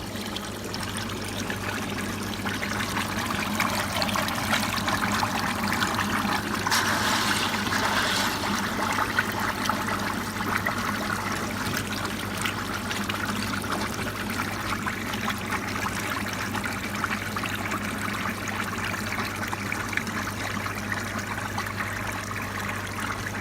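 Water bubbles and trickles steadily through a home-made koi pond filtration tank, a continuous watery wash that holds at an even level from start to finish with no talking.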